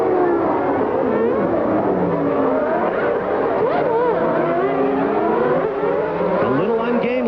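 Formula 1 cars from the 1991 Belgian Grand Prix surge away from the race start toward the first corner, a dense layered engine howl with rising and falling pitch that runs steadily under continuous commentary.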